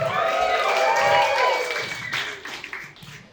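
An audience at Denver Comedy Underground, held in a church basement, claps and cheers loudly, then the applause gradually tapers off while a host speaks over the fading crowd.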